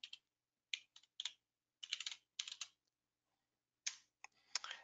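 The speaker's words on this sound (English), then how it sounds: "I'm just going to type in PowerShell." Keystrokes on a computer keyboard while someone types a command, in short separate clusters of crisp clicks with brief pauses between them. The typing is close and clear against a silent background.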